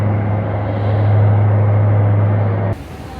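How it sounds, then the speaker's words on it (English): New York subway train leaving from Roosevelt Island, a loud steady low rumble and hum of a train running in a tunnel, ending abruptly into quieter noise near the end, with no talk. "Catching the subway from Roosevelt Island."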